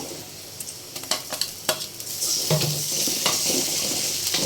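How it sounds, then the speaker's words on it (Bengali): Ground spice paste hits hot oil in a pan after a few spoon taps, bursting into a loud, sustained sizzle that stays close and steady to the end, with no voices. "এখন আমি মশলাটা দিয়ে দিব।"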